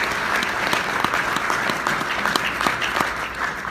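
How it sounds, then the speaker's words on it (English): A morning conference audience gives a round of applause, dense steady clapping from many hands filling the room continuously at a moderate level, with no voices standing out. "Let's give yourselves a round of applause."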